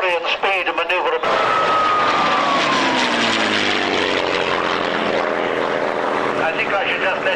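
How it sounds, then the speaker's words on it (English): Messerschmitt Bf 109G fighter flying at a 1997 military airshow at Old Warden, a loud engine roar sweeping past with a falling pitch, preceded by brief talk. "I think I should just let you watch and listen to this. It's a 109G."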